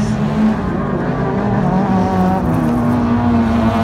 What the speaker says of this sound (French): Et dans son sillage s'il va passer La numéro 3. C'est la Peugeot 206.